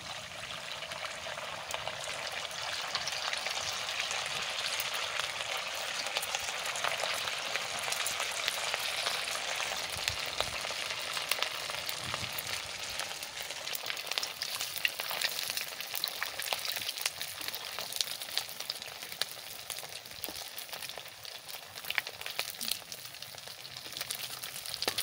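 Semolina sweets frying in hot white oil in a wok over a strong flame, a steady dense crackling sizzle held at an even level throughout, close and alone without speech.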